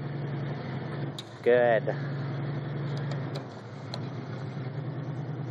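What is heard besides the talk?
vehicle engine pulling a stuck 1998 Ranger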